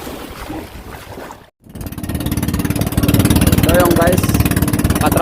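A fishing boat's engine runs loudly, its rapid, throbbing pulse starting after a brief cut and growing stronger and steady, close and dominant, with voices talking faintly over it.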